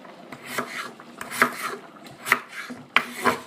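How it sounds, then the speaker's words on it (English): A knife cuts potatoes into bite-sized pieces on a board, several distinct chopping thuds and scrapes at an uneven pace, close and clear with no talking. "So I'm just going to cut them up in no special form, just so that way it can be nice bite-sized pieces."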